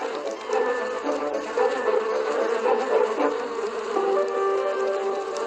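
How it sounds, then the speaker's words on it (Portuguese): A buzzing hum of honey bees inside the hive, continuous and fairly close, with shifting pitch from wing and abdomen vibration as a forager performs the waggle dance on her sisters. "Ela sobe nas costas das irmãs e vibra seu abdômen."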